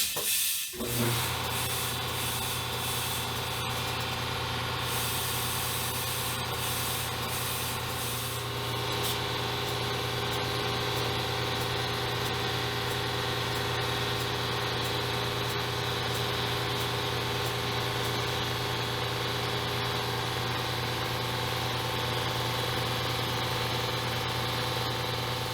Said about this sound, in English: during that air compressor run, I was able to seat it